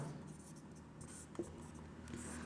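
Faint scratchy strokes of writing on a board during a maths class, quiet intermittent scraping with a small tap midway, under a low room background.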